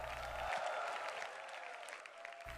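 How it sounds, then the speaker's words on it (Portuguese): A church congregation applauds in a dense, continuous wash of clapping that stays fairly faint throughout, with no voices standing out. "Vamos dar uma salva de palmas para o Pai."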